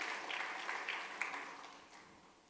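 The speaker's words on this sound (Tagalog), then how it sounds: "yung palakpak po para sa ating Panginoon" A church congregation claps for the Lord during a sermon, a brief dense patter of applause that fades away over a couple of seconds.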